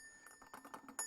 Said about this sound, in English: A really nice ornate bell with a supporting ornate bracket